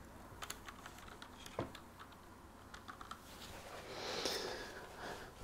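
Typing on a computer keyboard, irregular quiet clicks and taps close by against a faint background, with a soft burst of louder activity near the end.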